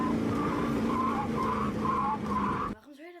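A car turns sharply at high speed, its tires squealing in a long pulsing skid with repeated screeching bursts over engine noise before cutting off abruptly.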